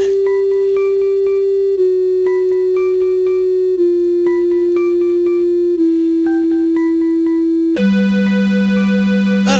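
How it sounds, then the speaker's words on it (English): Somber title theme music from the video game Mother plays steadily: a sustained low synth drone under a slow, repeating melody of chiming tones, shifting to a brighter, denser chord near the end, with no talking. "Oh, the music's changed. It's gotten to the somber Mother music title"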